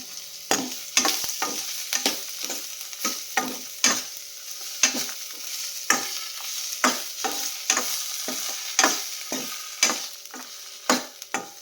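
Curry leaves and ginger garlic paste sizzle in a pan for benne dosa chutney, a continuous close frying hiss broken by regular scraping stirs of a spatula, with no talking.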